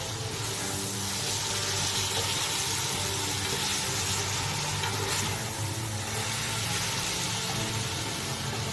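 Chicken vegetable spaghetti is stirred and tossed in a hot pan, giving a continuous bright sizzle with soft scraping underneath, close and steady throughout.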